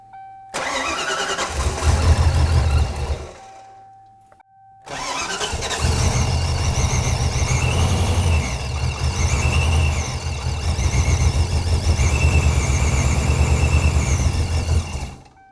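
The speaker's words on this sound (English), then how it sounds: "It's misfiring." A 1993 Ford Mustang Cobra engine cranks and catches twice, first briefly, then running rough and uneven with a misfire and a belt squeal, loud and close with no talking.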